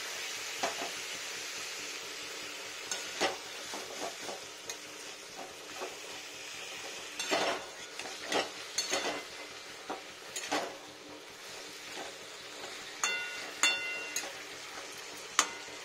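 Cauliflower frying in a pan with a little water for a vegetarian dish, heard as a quiet sizzle broken by spoon stirring clicks and scrapes at irregular intervals, close up with no talking.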